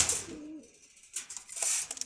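A pigeon coos softly a couple of times, low and throaty, with brief rustling and faint background noise between calls, at a pigeon market.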